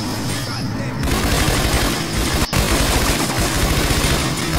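Continuous gunfire in the video game Scarface: The World Is Yours, loud and dense bursts running throughout with one sharp crack near the middle, alongside shouting voices.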